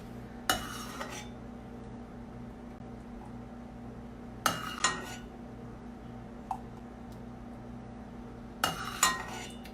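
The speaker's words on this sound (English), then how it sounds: "I'm gonna go ahead and put it in the canister and add some ice to it" Ice clinks into a canister of golden spiced turmeric milk tea, three bursts of clattering knocks spaced a few seconds apart, close and fairly quiet over a steady low hum.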